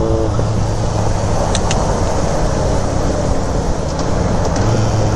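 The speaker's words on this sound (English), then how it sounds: "Traffic! Traffic! Friday traffic!" Steady road traffic on a Friday, a continuous broadband rumble of passing cars and engines with a low drone and faint horn-like tones, loud and close throughout with no talk.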